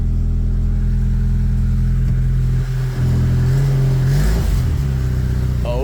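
A Toyota TE72 wagon just swapped to a 5-speed manual idles loudly and close, then its engine note shifts as it eases into reverse, with a brief dip and clunk midway.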